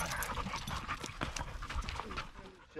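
Large dogs of 80 and 100 pounds panting heavily and close on a Kentucky hiking trail, a continuous rapid breathy rhythm throughout with some movement noise.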